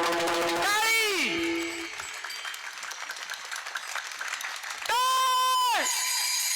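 Clapping from a crowd at a Marathi kirtan fills a stretch between passages of loud sustained chanting, a diffuse patter of hands that fades before the singing returns.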